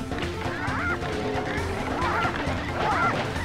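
Squawking chickens in the video game Bad Juju give several honking, rising calls over a steady, busy game soundscape.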